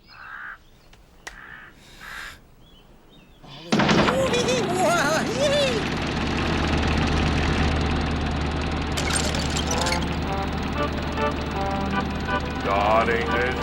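An aeroplane engine in an animated short about aircraft invention roars to life after a quiet, sparse opening, settling into a loud, steady drone with a low hum and scattered chirpy sound effects layered over it.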